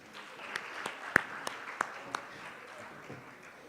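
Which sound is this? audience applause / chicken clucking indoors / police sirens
audience applause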